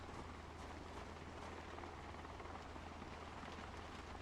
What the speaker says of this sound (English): Do you guys hear the helicopter?